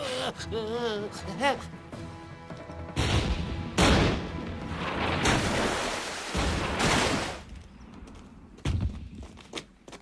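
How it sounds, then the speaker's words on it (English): Heavy booming blasts of cannon fire in a historical war film erupt in several loud, rumbling bursts, broken by shorter thuds, with voices talking at the start. "Colonel Munro, we're under cannon fire."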